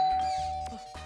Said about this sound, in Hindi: संचिता एक मिनट, दरवाजे पे कोई है।